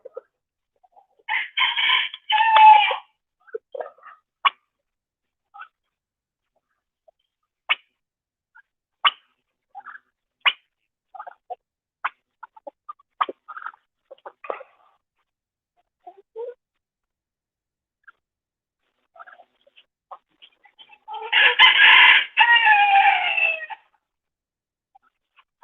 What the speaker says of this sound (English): How are the meat chickens doing, Miss Lena?